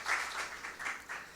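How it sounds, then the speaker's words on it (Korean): Faint, distant applause of thanks from attendees at a public forum on walking and health, a soft clapping wash that swells in loose pulses. "다시 한번 김영규 의장님과 오세훈 시장님께 감사의 박수 좀 부탁드리겠습니다."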